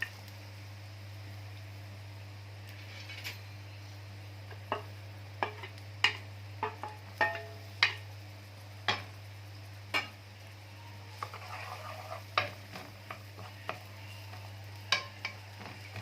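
Chopped onion fries in oil for a liver dish while a utensil stirs it, giving irregular sharp taps and scrapes against the pan over a low steady hum and a faint sizzle.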